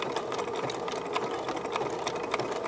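A sewing machine stitches cord for trims with a roller foot, a steady close-up mechanical whir running the whole time without pause and no talking.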